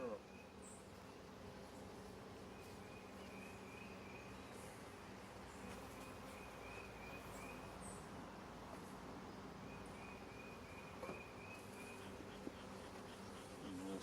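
Honeybees hum in a steady, soft, close drone around a newly set-up hive where queens are being released, the buzzing continuous and faintly rising in intensity.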